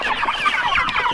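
Large backyard meat chickens cluck continuously in a dense, overlapping chorus of busy murmuring calls, close and fairly loud, with no talking.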